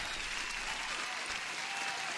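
Applause sound effect on a live stream, a short burst of dense, even clapping from a crowd, fairly quiet and with no talking over it.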